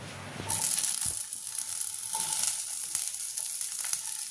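Capsicum drops into hot oil and sizzles loudly in a pan in a Bengali home kitchen while cooking chicken pizza topping, a steady bright hiss with scraping and tossing clatters of the spatula, close and continuous.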